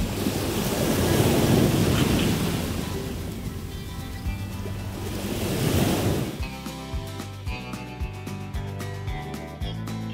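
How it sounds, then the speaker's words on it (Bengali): Ocean waves wash onto Puri beach with a steady, broad roar for several seconds, with wind noise mixed in, before the sound gives way to a different, tonal passage. "এত শান্তি নিরিবিলি পরিবেশ, শুধু ঢেউয়ের আওয়াজ।"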